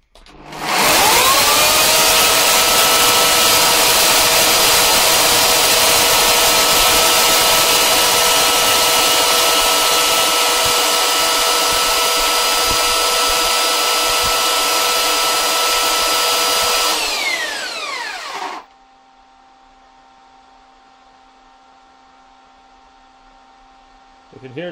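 A 2200 watt electric chainsaw powered through a 12 volt 3000 watt power inverter screams loudly at a steady high pitch for about seventeen seconds, then winds down, leaving a lower electrical hum from a fan and light.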